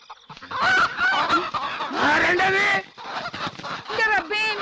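Chickens squawk and cackle loudly up close in a run of harsh, agitated cries with brief pauses between bursts.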